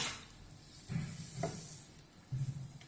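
Puran poli fries in oil in a pan, a soft steady sizzle with a few scraping stirs of a spatula, close and fairly quiet, with no talking.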